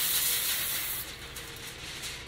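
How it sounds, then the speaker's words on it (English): A close, bright hiss of cooking spray onto foil for about a second, then fading to quiet room noise, with a sharp click at the very end. "I'm gonna spray my foil so that the cheese"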